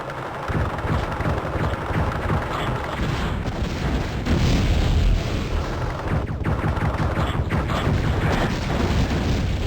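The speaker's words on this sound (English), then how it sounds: "I just ate a rocket to the face." A rocket explosion hits the player in the video game Terminator Future Shock, a dense rumbling blast over continuous loud gunfire-like crackle and booms, with a heavier surge midway.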